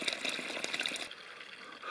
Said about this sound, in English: here's the spring, just a perfect, clean, clear, strong spring